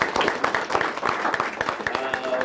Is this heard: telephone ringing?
no